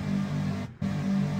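A steady, buzzy two-oscillator synthesizer tone with a thick, wavering detuned quality, briefly cutting out for a moment before resuming.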